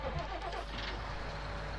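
John Deere tractor with a plough attached, engine running in a farming video game, a steady droning rumble with a low hum that holds at an even level throughout.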